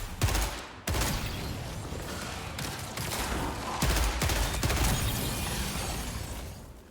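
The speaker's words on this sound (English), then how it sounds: "the burst rifle is actually really good" Rapid burst-rifle gunfire in the sci-fi shooter Marathon: repeated short volleys crackle loud and close across the whole stretch, with sharp impacts and shattering hits between bursts and no talk.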